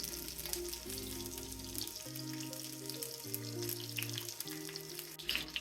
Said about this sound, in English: So now your onion and garlic are getting sauteed.